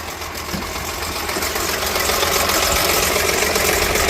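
A Mercedes car engine running steadily at idle, a loud continuous rumble with mechanical clatter, close by and alone without talk.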